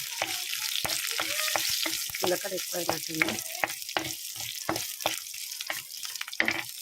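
Cumin, garlic and dried red chillies sizzle in hot oil as a tempering for mint chutney, a steady close hiss broken by frequent spoon clatters against the pan while someone briefly talks.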